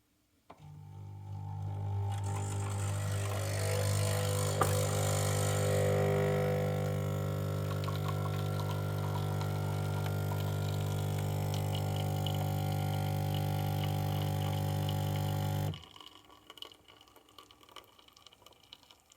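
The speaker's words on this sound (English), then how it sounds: "hit the espresso button and let's see how it looks" A Nespresso Essenza Mini brews espresso: a steady, loud pump hum with a low tonal drone runs for about fifteen seconds while liquid gurgles, then cuts off abruptly, leaving faint dripping.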